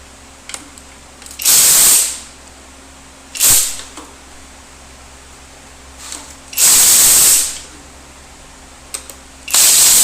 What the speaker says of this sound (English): So we're going to be all along this perimeter pulling bolts.